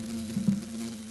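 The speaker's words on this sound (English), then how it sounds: "Mud dauber." Steady, close insect buzzing from a mud dauber wasp, a thin-bodied, nearly hairless solitary wasp, holding a continuous hum for about a second with no other sounds.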